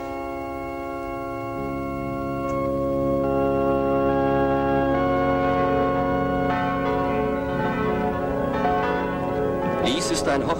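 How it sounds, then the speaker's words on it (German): Church bells ring out on a wedding day, their sustained overlapping tones layered into a full resonant peal that swells and keeps sounding throughout, with a brighter clang near the end. "Die Glocken läuten hinüber in Magdalenas Schicksal"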